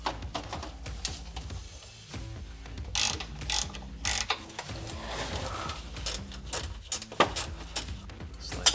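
Close, quick ratcheting clicks from a socket wrench loosening bracket bolts while a Luverne Prowler Max grille guard goes onto a RAM 1500, in irregular bursts with some metallic clanks of handling.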